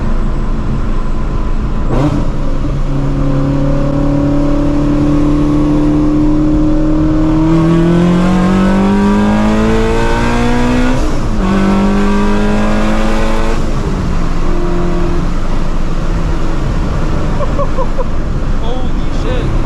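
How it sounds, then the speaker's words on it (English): A 700hp Procharged Shelby GT350 accelerates hard in third gear from inside the cabin, its engine note climbing loud and sustained through the revs and then dropping briefly before pulling again. "I'm gonna do like a little third gear hit right here."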